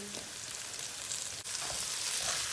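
Soaked rice and green onions sautéing in a hot pan give a steady, close sizzle of frying with a brief dip midway, no voices.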